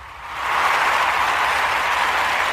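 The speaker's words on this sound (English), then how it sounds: "We're giving the NIA babies a round of applause" An audience gives a round of applause for the NIA babies, a broad wash of clapping that swells in after a quiet start and holds steady and full to the end.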